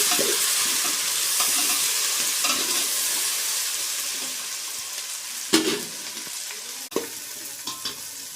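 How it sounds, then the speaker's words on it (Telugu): Two spoonfuls of ginger garlic paste fry in a pan for egg biryani. A loud, even sizzle continues throughout, with a few sharp stirring scrapes and clinks near the end. "ఇప్పుడు పచ్చి వాసన పోయేంత వరకు అల్లం వెల్లుల్లి పేస్ట్ని ఫ్రై చేసుకోవాలి"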